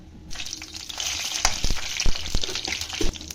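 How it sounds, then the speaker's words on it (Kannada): Close sizzling of mustard seeds in hot oil for a sambar tempering, with scattered sharp pops and crackles over a steady frying hiss. "ಒಗ್ಗರಣೆಗೆ ಸಾಸಿವೆ ಹಾಗೂ ಎಣ್ಣೆನ ಹಾಕೊಂಡಿದ್ದೀನಿ"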